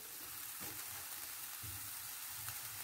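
Chopped onion frying in a pan while being stirred, a steady soft sizzle with a few scraping stirs, close and alone with no talk.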